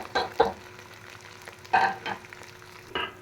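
Chopped tomatoes frying with onions in a pan, with several distinct spoon-scraping stirs over a faint background sizzle, close and moderately quiet with no talk.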